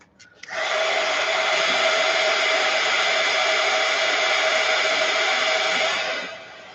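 A hair dryer blows on a wet spot of a paper craft envelope flipbook, switching on with a click and holding a steady loud whooshing whir for about six seconds before cutting off.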